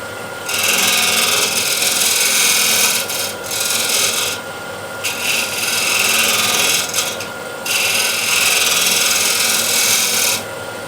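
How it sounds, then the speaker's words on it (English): Broad rasping scrape of a tool shear scraping an 11-inch osage orange bowl on a wood lathe, steady and close in long passes broken by brief pauses, with no talking. "Need to shear scrape it and get a small crown here."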